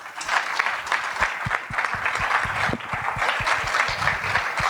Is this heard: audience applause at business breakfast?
yes